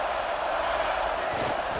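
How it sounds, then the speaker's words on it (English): An Ohio State Buckeyes football stadium crowd roars on third down, a dense, sustained wall of cheering and shouting, loud and distant-sounding, with an announcer's voice over it. "The Buckeye crowd alive on 3rd down."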